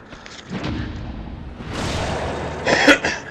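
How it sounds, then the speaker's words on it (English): A person coughs a few times, in short rough bursts close to the microphone, during a Dark Souls play session. "Excuse me about the cough, guys."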